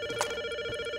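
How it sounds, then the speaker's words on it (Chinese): A telephone rings in the Rust survival game, a continuous electronic ringtone with steady tonal bands and a brief louder burst near the start, heard alone without talk. "等一下，我没办法接电话，不要打"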